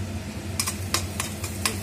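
A spoon stirs a Bengali katla fish curry in a pan of oil, with scraping clinks over a soft steady sizzle, close and without speech.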